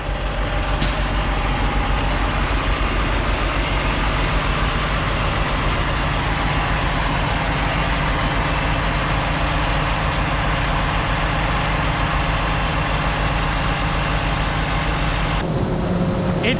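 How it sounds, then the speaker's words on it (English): A farm truck idles close by, a steady low diesel rumble with a constant drone that persists throughout, with a brief hiss near the end and no talking. "That is one sweet truck."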